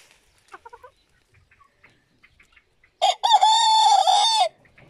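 A small rooster on a farm crows loudly and close, a single long strained call after a few soft clucks from nearby hens in an otherwise quiet yard.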